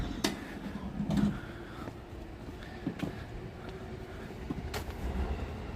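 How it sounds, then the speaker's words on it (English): A JR Nambu Line train passes at an evening street in Kawasaki, Japan, with a soft, distant rumble and faint rail clatter behind quiet street ambience. "There's a train. That's the JR Nambu line."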